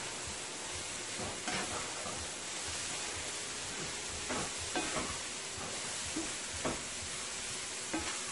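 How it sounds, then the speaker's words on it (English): A spoon stirring grated coconut with nutmeg in a pot for Guyanese sugar cake, heard as a continuous soft sizzling hiss with faint scraping strokes scattered through it. "I'm going to give this a stir."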